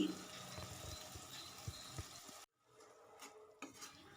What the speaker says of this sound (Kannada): ಈಗ ನಾನು ರುಬ್ಬಿದಂಥ ಮಸಾಲನ ಹಾಕ್ಕೊಳ್ತಾ ಇದ್ದೀನಿ